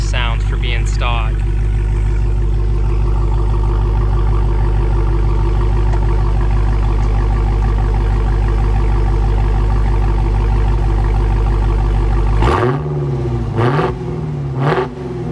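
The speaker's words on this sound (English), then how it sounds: "I'll get a quick exhaust clip for you guys" A stock Dodge Challenger Hellcat exhaust idles with a loud, steady deep rumble recorded close up at the tailpipe, with a short blip at the start and a couple of sharp throttle revs near the end.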